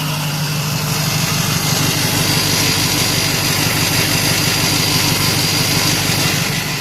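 A Ford 6.0 Powerstroke diesel with a little smoke and an oil leak idles steadily up close, a loud, even rumble with a fast regular clatter running the whole time and no talk.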